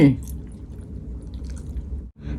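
Wet, squishy chewing of thinly sliced raw beef and liver wrapped together, eaten close up with a steady mouthful rhythm and a brief pause near the end.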